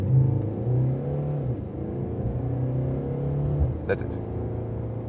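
A Mercedes E-Class pulls away from a standstill up toward 70 in sport mode, its engine note rising in steady pitch sweeps that drop back at each gear change, with a voice speaking briefly near the end.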